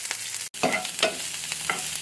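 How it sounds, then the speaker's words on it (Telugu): Chopped onions frying in hot oil in a pan while being stirred until light brown: rhythmic spatula scrapes roughly every half second over a crackling sizzle, broken by one brief silent gap. "ఆనియన్స్ వేసి లైట్ బ్రౌన్ కలర్ వచ్చే వరకు కలియపెడదాము."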